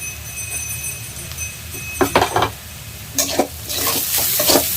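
Onion frying with ginger-garlic paste in a pan for Delhi-style rajma, a steady close sizzle with several bursts of scraping stirring strokes, no talk.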